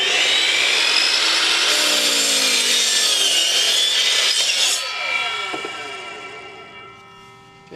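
Sawing through an all-weather decking board, a loud close rasping cut held for several seconds, then tapering off as the blade slows and rings down, with no talk.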